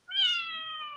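A single loud, drawn-out cat meow close by, rising sharply then trailing off in one clear call.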